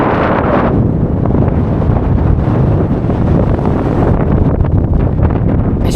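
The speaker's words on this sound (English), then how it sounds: "It's pretty windy up here." Strong wind gusting across Puper's Rocks, a hilltop on Dartmoor in South Devon, roaring loudly and steadily into the microphone with constant buffeting throughout.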